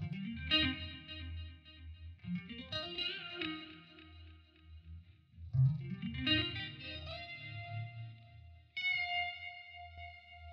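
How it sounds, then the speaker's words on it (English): Synth solo played through a Magix Vandal clean vibe phaser and tremolo in ACID Pro 8, a series of swirling, wavering melodic phrases with pauses between, ending on a held shimmering tone; no speech. "I used this clean vibe, which is just a phase shifter and tremolo."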